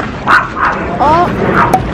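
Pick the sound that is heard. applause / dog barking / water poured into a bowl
dog barking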